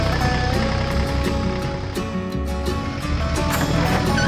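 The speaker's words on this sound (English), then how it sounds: "Both machines, ready for action, started off with the roar of their engines." Two tractors' engines roar as they start off, a loud, dense and continuous drone with steady harmonic rumble that holds throughout, with slight rhythmic pulsing.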